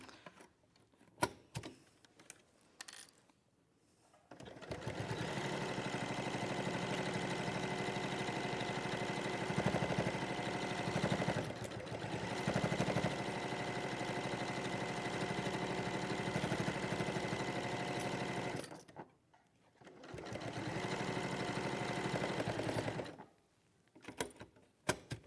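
A sewing machine stitches around fabric binding in long, steady runs of mechanical whirring and rapid stitching, pausing briefly before resuming, heard at close range.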